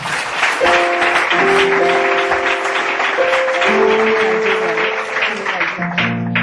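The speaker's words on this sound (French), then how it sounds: "Alors, acclamons très fort le Saint-Esprit." Church congregation clapping and acclaiming the Holy Spirit during a healing service, steady dense applause mixed with cheering voices and sustained musical tones throughout.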